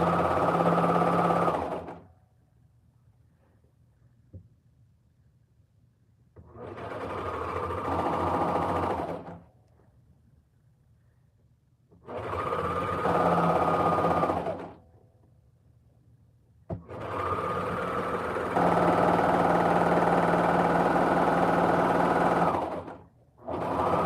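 A sewing machine runs in four bursts of rapid mechanical stitching, separated by quiet pauses, with the last run the longest.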